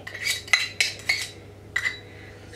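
A spoon clinks against a bowl while coconut oil goes into a nut mixture: about half a dozen light, close metallic taps in a short, uneven burst.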